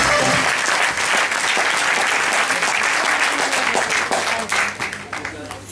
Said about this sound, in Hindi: एक जोरदार तालियां हो डॉक्टर के लिए।